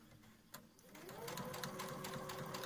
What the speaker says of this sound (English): Put it under the machine, under the pressure foot